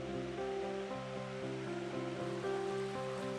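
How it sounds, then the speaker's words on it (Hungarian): A stream babbles and rushes through the Gaja gorge in the Bakony hills, a steady, close, continuous wash of flowing water with no talking. "egész szépen csörgedezik a patak"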